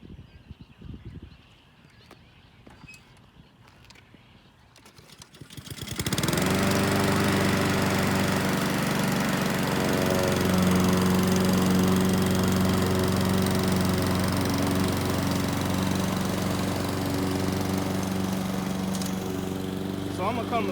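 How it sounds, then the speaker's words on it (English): A lawn mower cutting and bagging Bermuda grass starts up after a few seconds of quiet and then runs as a loud, steady engine drone right up close, with a faint voice speaking underneath. "go ahead and start cutting it. Now, we're not mulching, we are bagging"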